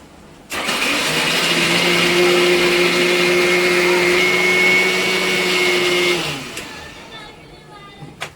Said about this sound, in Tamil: இதை ஃபைன் பேஸ்ட்டாக அரைச்சிக்கிடலாம்